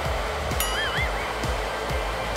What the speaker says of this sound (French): Merci, monsieur sèche-cheveux.